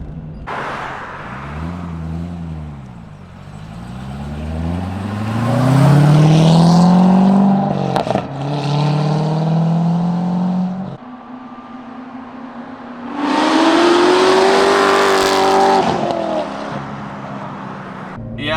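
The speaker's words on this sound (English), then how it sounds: "I hear little pops in between every shift, and it's just the right amount, just like a little brrr" A Corvette ZR1 with a louder aftermarket exhaust revs hard through several gears, each climb ending in small crackling pops between shifts; the engine note rises, drops, then roars up again loudly and close, with no talking.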